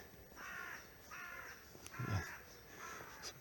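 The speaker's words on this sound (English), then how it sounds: "Some crows. Actually, I say that, I think they're rooks actually." Several harsh caws from rooks at a moderate distance in a Plymouth woodland in April, spaced out over a few seconds against quiet outdoor background noise.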